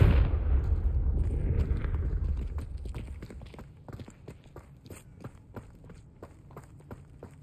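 A Confringo spell explosion in the Hogwarts Legacy video game: a loud, rumbling blast that slowly fades over a few seconds, followed by a run of quick, light footsteps.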